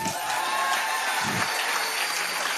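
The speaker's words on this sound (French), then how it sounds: "Acclamons pour celle-ci." Applause rises for a girl at a church gathering, a short burst of clapping that runs steadily throughout at moderate volume, with some crowd noise mixed in.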